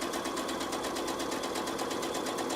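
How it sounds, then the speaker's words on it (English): Sewing machine stitching a fabric appliqué, a steady, fast mechanical whir with even rapid needle ticks running throughout at close range, loud and unbroken with no voices. "I want to make sure I stitch right over that same spot"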